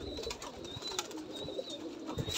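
Pigeons being fed grain, soft repeated cooing calls over a steady outdoor hum, moderately close with no talking.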